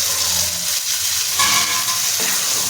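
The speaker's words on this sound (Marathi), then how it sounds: "ह्याच्यामध्ये आपण जे वाटण करून घेतलेले आहे ते वाटण टाकून घेऊया" Ground masala paste stirred into green chickpeas in a hot pan, a steady loud sizzle and hiss with scraping stirs and a sudden burst of frying partway through, close and continuous without speech.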